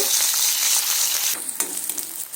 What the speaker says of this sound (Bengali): তেলের মধ্যে দিয়ে দিচ্ছি একটা গোটা বড় সাইজের পেঁয়াজ কুচুনো পেঁয়াজগুলোকে দিয়ে লাল লাল করে ভেজে নেব